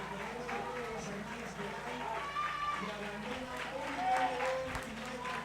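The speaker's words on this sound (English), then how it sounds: "Warm round of applause as number 5, Carner, comes off." Audience applause at a Mexico versus Cayman men's water polo match, faint and scattered clapping in a reverberant pool hall, heard quietly under a commentator's talk.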